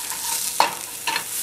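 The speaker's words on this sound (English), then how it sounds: "Stir fry means you fry and you stir it." Savoury oatmeal stir-frying in a pan, with a soft steady sizzle and two brief scraping stirs of a utensil, close and moderately loud, no talking.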